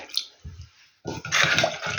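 Water, 100 ml, poured onto gelatin in a kitchen, a short splash followed after a pause by a louder, steady rush of pouring liquid, close by.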